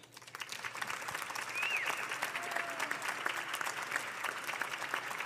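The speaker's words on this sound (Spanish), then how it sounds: "Démosle un gran aplauso a Silvia Molina" An audience gives steady, sustained applause for Silvia Molina, a broad dense patter of many hands clapping at a moderate distance.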